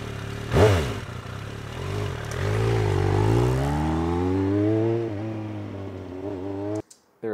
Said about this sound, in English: Suzuki motorcycle.